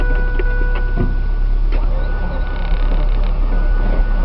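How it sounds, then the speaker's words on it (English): A 1987 Shelby Z engine cranking slowly without firing, a steady, loud, laboring starter drone throughout, heard close up. "Well, she's cranking slow. Not even popping."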